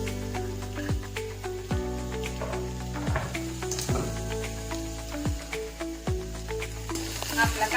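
Onion roasts in a spoonful of ghee for chicken biryani, a constant close sizzle and crackle with repeated stirring scrapes every second or so, moderately loud and free of talk.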